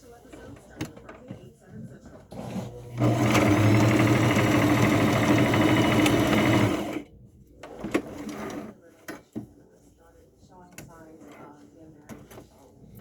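Sewing machine stitching folded fabric pieces for a baby burial cocoon, a steady loud motor whir running about four seconds, with handling clicks and rustling before and after and speech through the rest.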